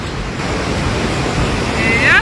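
A waterfall in Quebec heard from nearby as a loud, steady rushing roar of falling water, mixed with wind buffeting the microphone and a brief hiss near the end.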